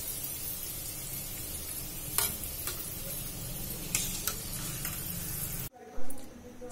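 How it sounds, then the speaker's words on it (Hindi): Chana dal sizzles steadily as it fries in hot oil in a pan, with occasional scraping taps of a stirring spoon, before the frying noise suddenly drops away near the end. "अच्छी दाल पकने में 5-6 मिनट लगते हैं, इसी तरह से सारी दाल को हम पका लेंगे।"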